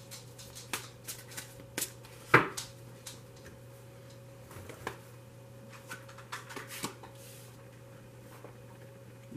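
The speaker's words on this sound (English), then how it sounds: "I'm only going to shuffle these for a moment." Tarot cards are shuffled and riffled in short, irregular bursts of soft flicking and snapping over a quiet background hum, with one sharper snap near the start.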